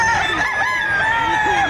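A rooster crows loudly and close at the Padre Garcia livestock auction market in Batangas, giving one drawn-out crow that lasts nearly two seconds, with faint crowd noise beneath it.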